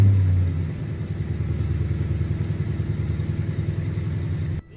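Ford F-150 pickup's Coyote 5.0 V8 idling through a MagnaFlow exhaust, a steady, loud, close burbling rumble with an even pulsing lope that cuts off abruptly near the end, no talk over it.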